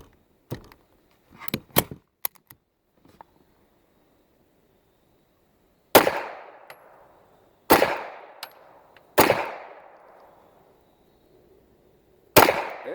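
An H&K PSP 9mm pistol fires a string of loud, sharp shots outdoors, some quick pairs early, then single shots spaced a second or more apart, each leaving a short echoing tail.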